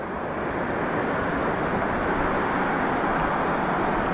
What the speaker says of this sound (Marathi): काय छोटासा धबधबा